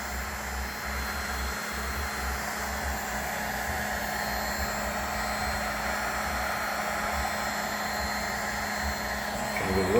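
A heat gun blows steadily on a car headlight to soften its sealing glue, a constant airy whoosh with a low motor drone running the whole time and swelling slightly at the end.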